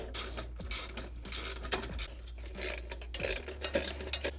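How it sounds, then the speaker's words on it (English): Bolts being tightened underneath a CYKE Oxen hitch bike rack with a ratchet, producing quiet repeated clicking and metallic rasping strokes close by, without any talking. "let's go get these bolts that are underneath here and get them tightened down nice."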